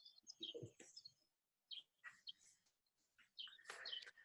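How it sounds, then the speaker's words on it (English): Small birds chirp outdoors in quick, high tweets and trills, coming in bursts separated by short pauses, faint and some distance away, with no talk over them. "And those little birdies chirping, that made that even more amazing."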